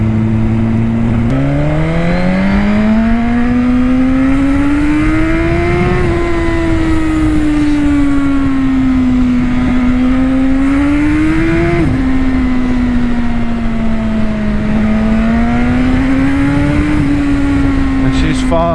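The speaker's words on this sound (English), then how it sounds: "it makes that quick shifter really make a lot of noise. It already popped when you change gear, but now it's really" Suzuki GSX-R1000R sportbike accelerating hard and loud, its engine note climbing steadily and dropping sharply at each quick-shifted gear change, four shifts over a sustained run.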